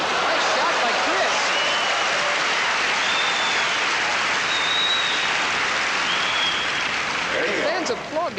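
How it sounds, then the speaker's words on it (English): Tennis crowd applauding a tough volley during a 1984 world mixed doubles final, a steady, dense wash of clapping that holds strong for about eight seconds, with voices faintly mixed in underneath. "Fans applaud because this was a tough volley for Chris to make"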